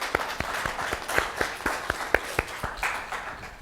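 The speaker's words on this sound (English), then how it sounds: "Give yourselves a round of applause" Workshop participants at a facilitation session give a few slow, distinct claps in a steady rhythm, fairly faint and spaced, rather than a full burst of applause.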